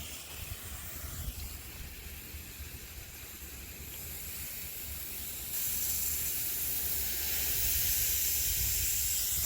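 Steady hissing spray of water, continuous and fairly loud, growing a little stronger partway through.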